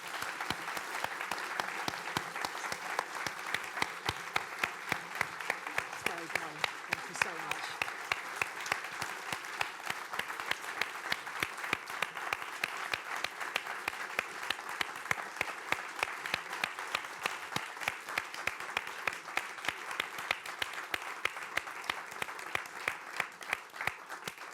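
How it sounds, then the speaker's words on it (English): An audience at an evening speaker event claps for Lord Barwell, a dense and steady round of applause that holds at an even level throughout, heard from within the room. "can I ask you all to have a round of applause for Lord Barwell?"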